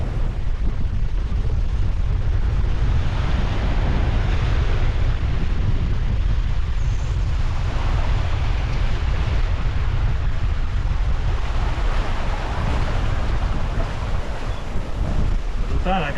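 Sea swell and waves roll past a sailboat after strong wind, a loud continuous rush of water and buffeting wind noise with slow surges, close and steady throughout.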